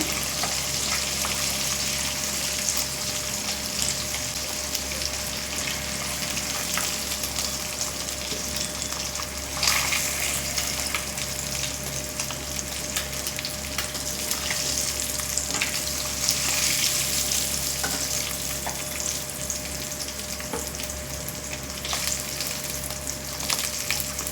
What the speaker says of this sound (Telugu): చూసారా ఎంత బాగా ఫ్రై అయ్యిందో కదా పీసు